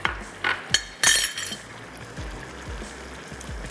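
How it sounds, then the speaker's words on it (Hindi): Water poured into a pan of matar paneer curry, a few clinking splashes of liquid near the start followed by quieter low simmering bubbles. "थोड़ा सा हमने इसमें पानी ऐड किया"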